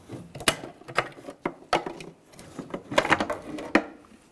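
Plastic tail light bulb sockets on a 2014-2018 GMC Sierra 1500 being twisted and pulled free, giving a series of sharp clicks and scraping snaps at close range with no talk.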